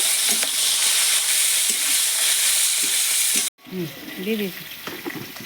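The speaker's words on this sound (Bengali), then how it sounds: "এবার আমি হালকা করে বিনস আর ক্যাপসিকামটা ভেজে নেব।" Beans and capsicum fry in sizzling oil with stirring scrapes, a brief cut, then continued frying with faint clatter; loud and close.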